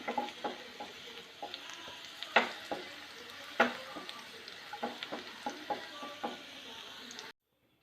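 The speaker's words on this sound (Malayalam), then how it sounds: "ഇനി നമുക്കിത് എണ്ണയിൽ നിന്ന് കോരിയെടുക്കാം" Oil sizzles in a pan while manjali biryani is prepared, a soft steady frying hiss broken by sharp clinks and scrapes of a utensil against the pan, and then it cuts to silence at the end.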